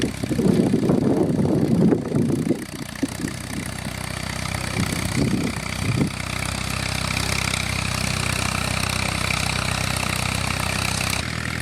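Allis Chalmers WD45 tractor pulling a plow 7 to 9 inches deep, its engine droning steadily and fairly loud throughout, with a voice talking over it at the start.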